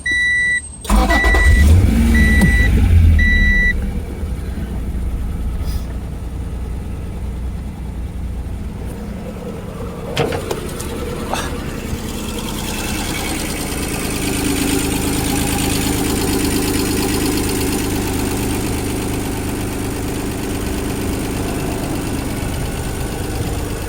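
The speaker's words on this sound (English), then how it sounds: "And now the car starts." Acura NSX engine cranks and fires up, then settles into a steady, fairly loud idle that runs on alone, with a short alarm-fob chirp just before the start.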